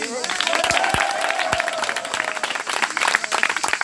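Crowd applause for a contestant at a French game-show style competition, lively clapping mixed with cheering, partly under a host's voice and music, continuing throughout.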